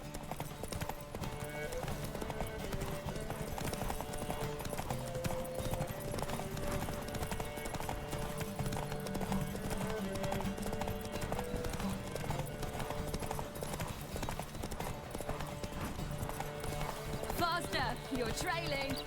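Hooves of Roach, Geralt's horse in The Witcher 3, pound in a fast, steady galloping rhythm throughout, with occasional snorts and game music underneath while a voice talks over it.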